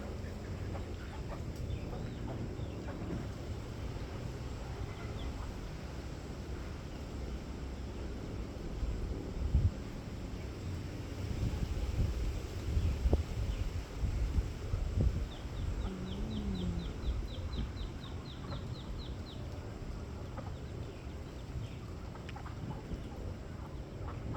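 Pekin ducks on a farm give scattered clucking and quacking calls, some close and some farther off, over a steady outdoor hiss with a few louder bursts in the middle.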